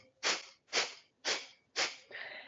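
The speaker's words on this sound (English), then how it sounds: "So you're pushing out the air through the nostrils like you have something stuck in your nose." Four sharp, forceful nasal exhales of Kapalabhati breath of fire in an even rhythm, close and fairly soft, followed by a longer, gentler breath.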